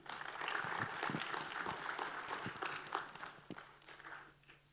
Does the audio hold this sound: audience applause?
yes